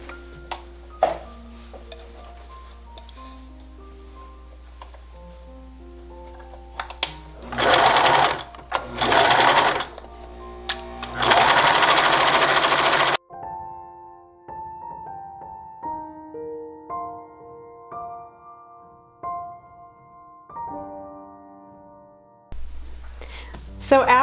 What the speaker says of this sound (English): You're gonna stitch along this top edge right here with a 1/4 of an inch seam allowance.